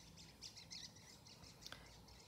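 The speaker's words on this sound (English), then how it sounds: "Hear the birds outside?" Faint birds chirping in the distance, a few high tweets scattered over a quiet background hum, no talking.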